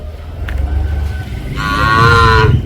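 A Hallikar calf gives a single drawn-out moo, loud and close, rising out of low background rumble near the end.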